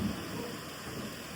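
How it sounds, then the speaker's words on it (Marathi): Thunder rumbling through a heavy May downpour at an outdoor village gathering, a steady low roar of rain with deep rolling thunder underneath, loud and continuous with no talk. "पाऊस जोरात आहे एकदम जोरात आहे गडगडतोय पाऊस विजा वगैरे चमकत आहेत"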